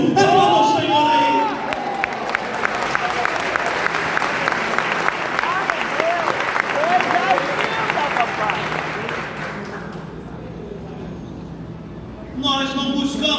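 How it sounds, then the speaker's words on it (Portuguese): Methodist church congregation applauding, a dense sustained clapping with scattered whoops and voices that fades after about ten seconds, then a voice rises over the quieter room. "Aplauda o Senhor aí"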